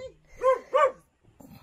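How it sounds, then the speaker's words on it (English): A dog at a school in Tabunan, Cebu, Philippines gives two quick, close barks, followed by faint background sound. "The name of the dog is Duterte, this one"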